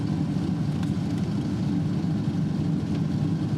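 A 1982 Corvette engine runs steadily at close range, a deep, continuous low rumble with no breaks and no talking over it.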